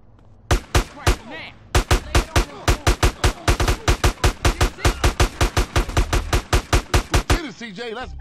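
Rapid gunfire from the video game GTA San Andreas, a long run of loud, evenly spaced sharp shots with a couple of brief pauses early on, then a burst of chatter-like noise at the end.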